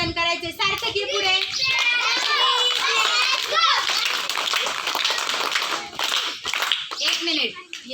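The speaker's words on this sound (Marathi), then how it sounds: "सगळ्यांनी सार्थकचं 3 टाळ्या वाजून अभिनंदन करायचे" Schoolchildren in a Marathi-speaking class clap together to congratulate a classmate elected school chief minister, the claps ringing out amid lively children's voices and chatter, loud and close throughout.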